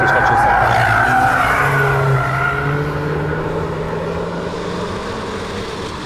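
A hot hatch race car slides through a corner on a racetrack with loud, close tire skidding and engine noise that fade gradually, while people talk over it.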